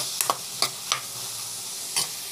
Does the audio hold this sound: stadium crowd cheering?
no